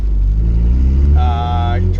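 A turbocharged Honda Civic engine runs with a deep, steady drone, and a brief high whistling tone rises over it midway through the two seconds.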